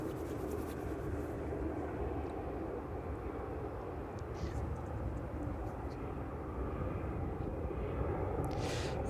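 An aircraft landing at East Midlands Airport on an evening just after 9 PM, a broad steady engine roar heard from a distance throughout, moderately faint with no clear peak.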